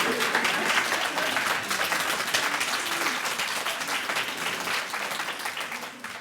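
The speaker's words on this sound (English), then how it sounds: "Let's give our speaker a round of applause." Audience applause for a speaker at a sorority chapter's United Nations Day celebration, a loud, steady wash of many hands clapping that holds for several seconds before easing slightly at the end.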